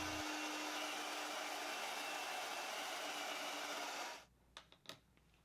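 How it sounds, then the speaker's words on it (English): A steady, loud whooshing hair dryer blows for about four seconds, then shuts off, leaving a few faint taps and clicks. "I'm going to dry it with my hair dryer."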